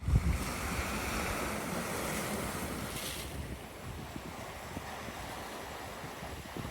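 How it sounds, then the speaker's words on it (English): Sea waves breaking with a bit of swell at the water's edge, a continuous wash of surf and gusting wind buffeting the microphone, steady and fairly loud with no talking. "there's a bit more swell than I would have liked"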